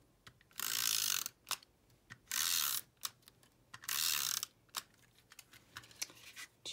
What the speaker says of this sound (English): then use my snail adhesive